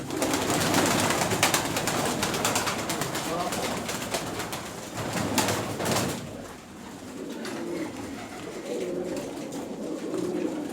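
Tumbler pigeons coo in low, throaty murmurs at a seller's loft in Turkey, mixed with bird calls and movement, while people talk throughout.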